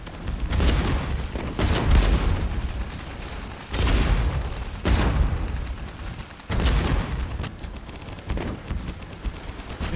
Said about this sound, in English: The minigun.